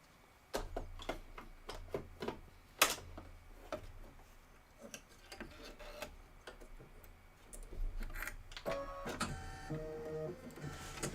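A sewing machine winds cream thread onto a bobbin up close, with scattered sharp mechanical clicks giving way to a busier, steady whirring toward the end, with no talking.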